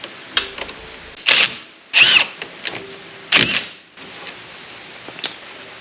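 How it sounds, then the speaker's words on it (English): A pneumatic impact gun rattles in several short, loud bursts as it spins a hub bolt off a golf cart, with clanks of the parts between bursts and no speech. "Impact gun. Bolt off, spindle out, hub out."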